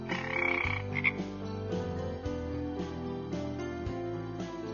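Repeated throaty frog croaks in a steady rhythm, close and fairly loud, with no talking.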